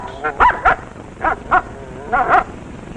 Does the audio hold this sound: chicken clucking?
no